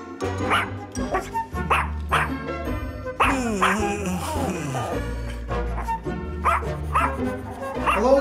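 Small pet dog barking and yipping in bursts at close range, about a dozen sharp barks with a few whimpering yelps in between, in a home where a child is trying to do homework.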